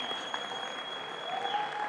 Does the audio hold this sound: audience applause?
yes